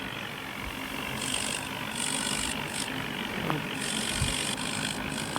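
A tractor engine idles steadily at a low, faint rumble, while a high, wavering chirp comes and goes above it.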